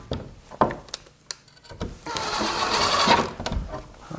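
Small screws are driven into a door jamb with a power driver, giving a short whirring burst that builds over a couple of seconds after a few scattered knocks and taps, close and fairly quiet.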